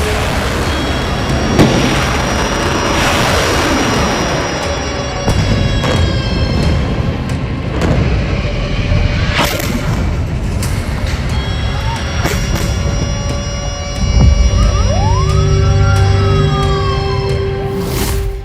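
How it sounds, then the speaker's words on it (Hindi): Sirens wail and rise and fall during rocket attacks in Israel, with dull booms and street noise around them, loud and continuous. "रॉकेट हमले।"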